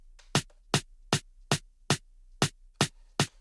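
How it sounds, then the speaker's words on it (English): A snare drum hits eight times in an even, steady rhythm, each crisp, sharp strike at the same moderate level with silence between. "by default this snare is gonna be around this level"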